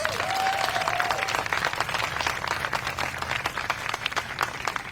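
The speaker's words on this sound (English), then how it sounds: "Let's give Suzanne a round of applause." An audience at an education-funding advocacy gathering claps steadily for about five seconds, a dense, even round of applause with a brief thin whistle-like tone near the start.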